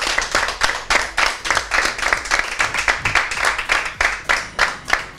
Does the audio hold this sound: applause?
yes